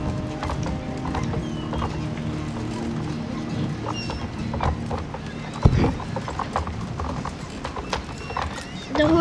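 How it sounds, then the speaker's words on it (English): Horse hooves clip-clop steadily in the Star Stable video game, a steady run of hoofbeats over game background noise with a brief horse whinny. "The horses were halted on, were being herded."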